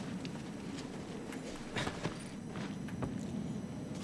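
Horse hooves clip-clopping across the ground in Shadow of the Colossus, faint and steady under a soft ambient bed, with a few sharper hoof strikes standing out.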